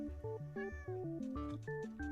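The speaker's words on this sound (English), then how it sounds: "Here, kitty, kitty, kitty." A cat in Minecraft 1.16 meows over and over in quick, stepped tonal calls, loud and close, with no talking.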